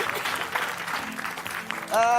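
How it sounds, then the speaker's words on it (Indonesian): Studio audience applauding on an Indonesian comedy show, a steady wash of clapping that holds through most of the moment before a brief tone and voice cut in at the end. "Tepuk tangan buat mereka semua"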